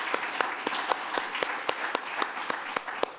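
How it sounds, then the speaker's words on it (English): An audience claps at the close of a spring 2022 demo day at The Branch. The sparse, fairly quiet applause has a few distinct individual claps standing out at a steady rhythm. "One more round of applause"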